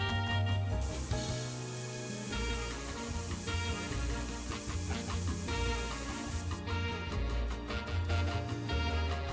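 Spray paint hisses steadily from a can in the video game Spray Paint Simulator, a continuous airy spray blended with background game music.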